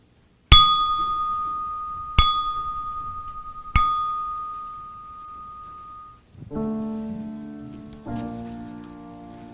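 A church bell rings three slow, clear strikes at the start of worship, each ringing out and decaying, then organ-like prelude music begins.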